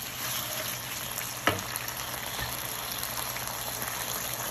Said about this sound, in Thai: แล้วก็ผัดให้เข้ากันค่ะ